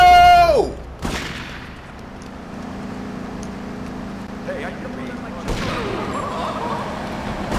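Gunfire in the Grand Theft Auto 3 video game: a descending tone, then a sharp burst at about one second, a long low rumble, and another loud blast later with noisy clatter after it.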